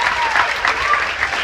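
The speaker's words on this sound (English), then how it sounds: "Give them all another huge round of applause." Audience at a hypnosis show aboard the Disney Fantasy cruise ship applauds steadily, a loud, dense wash of clapping that fills the whole moment without pause.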